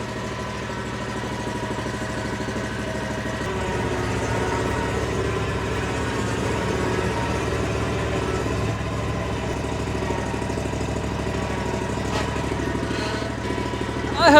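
A Yakta YXR710 riding lawn mower engine idles and then revs slightly as the mower drives onto a lift, a steady mid-low rumble with rising effort near the end, close and loud.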